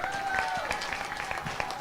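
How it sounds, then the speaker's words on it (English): An assembly audience at an international gathering claps for the interpreters in the room, a brief burst of scattered applause with some voices and murmurs mixed in. "Let's give them a round of applause."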